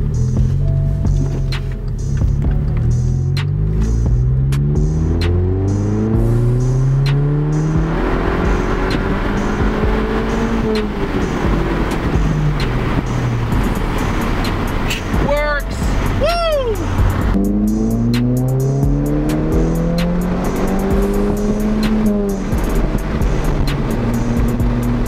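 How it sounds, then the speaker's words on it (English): A car engine revs hard and climbs steadily toward redline during a full-throttle pull, the rising whine repeating through gear changes, loud and close from inside the cabin, with a voice speaking over it. "I'm gonna try to do a pull and redline it real quick so you can see that."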